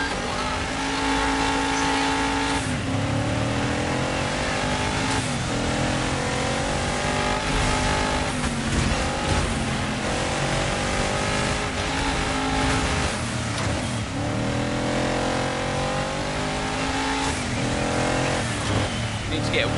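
Rally car engine in DIRT 5 revs and shifts continuously while racing on snow and ice, loud and steady throughout, with someone talking over the driving.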